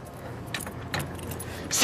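A bunch of keys jangles in several short metallic bursts, with the loudest rattle at the very end, close by against a faint background.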